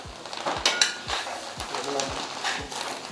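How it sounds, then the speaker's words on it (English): Oil sizzles with heated Ayurvedic medicinal herb leaves in a pan, a steady frying hiss with recurring soft stirring thumps and light utensil clinks. A person speaks faintly underneath. "Now they're adding a little bit of oil to it, and you can hear the sizzle probably."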